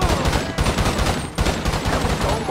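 Rapid burst-mode gunfire from the video game GTA 5 hammers continuously, loud and dense, with short repeated volleys and barely a gap across the whole stretch.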